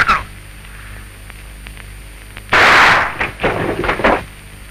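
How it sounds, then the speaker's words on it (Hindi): Gunfire in the 1960 Hindi black-and-white crime film Kala Aadmi arrives as a loud burst followed by several rapid, sharp shots, ringing out over a quiet, hissy soundtrack. "गोलियां चलाने से कोई फायदा नहीं।"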